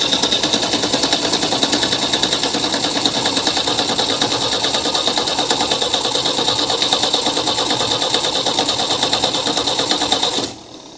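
A 1975 MGB engine cranking with a fast, even, loud mechanical chatter after a carburetor rebuild, running steadily for about ten seconds before abruptly cutting off, with no speech.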